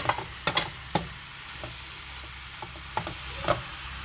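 Egg fried rice sizzles in a fry pan rather than a wok, with a steady frying hiss broken by several sharp scraping clatters as the rice is stirred and tossed, up close and without talk.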